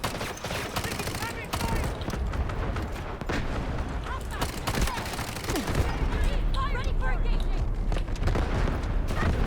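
Rapid SMG gunfire bursts in a modern fast-paced first-person shooter game, dense and continuous with booms and explosions layered in, while faint voices and game effects sit beneath the clatter.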